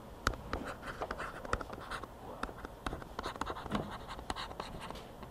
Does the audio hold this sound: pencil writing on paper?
yes